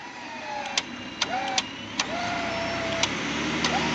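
A Ford pickup truck's engine drones steadily while it tries to break free in snow, with short whining tire-spin tones and a few sharp clicks over the rumble.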